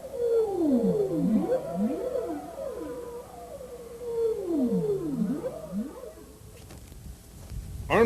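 Bowhead whale songs recorded underwater during the spring migration north off Alaska: loud, repeated sweeping moans that rise and fall in looping arcs, two long phrases in succession, ending with a low rumbling burst.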